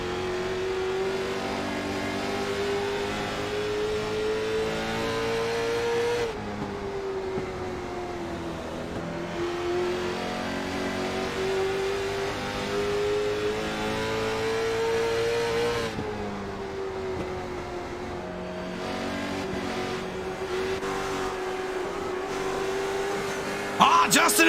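Late model race cars racing at Myrtle Beach, engines droning loud and steady with rising and falling pitch as the cars battle through turns, a sustained near roar with a brief scrape at the end, under a commentator's voice.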